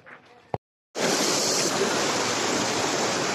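A high river rushes steadily and loudly after a brief pause, a dense broadband flow like a swollen river close by, with a short murmur and click before.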